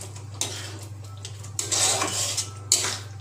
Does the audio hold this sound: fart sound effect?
no